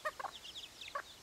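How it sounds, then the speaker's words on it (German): A German bush chicken (Deutsches Buschhuhn) chick gives a few short, high peeps in quick succession with a brief pause before a last one, faint and close in an otherwise quiet garden. "Hier rechts kommt gerade ein Küken"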